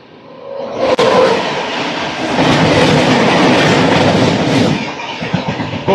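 Golconda Express running from Secunderabad to Guntur thunders past close by, a loud continuous rumble with rhythmic clickety-clack of wagon wheels and a sharp clank near the start, fading slightly at the end.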